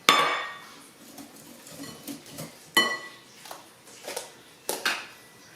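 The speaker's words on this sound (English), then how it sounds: "Now I'm adding 3/4 cup of sugar" Utensils clink and scrape against a mixing bowl and measuring cup as three-quarters of a cup of sugar goes in for an eggnog impossible pie, a series of sharp nearby clatters and taps spread over several seconds with quieter rustling between.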